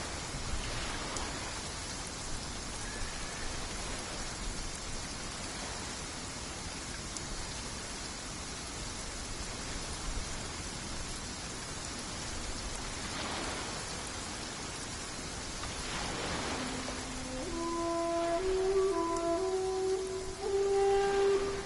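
Steady rainfall patters down throughout a scene in the video game Genshin Impact, a broad continuous hiss with no talking, while a few soft melodic tones rise near the end.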